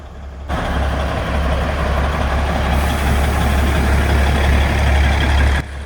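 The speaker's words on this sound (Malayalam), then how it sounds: "ഈ എഞ്ചിൻ്റെ സൗണ്ട് ഒന്ന് കേട്ട് നോക്കിയാട്ടെ നമ്മൾ സാധാരണ ട്രെയിനിൻ്റെ സൗണ്ട് അല്ലല്ലോ" A loud engine of an old-model toy train at Matheran starts up and runs with a steady, deep throbbing rumble for several seconds, then cuts off abruptly.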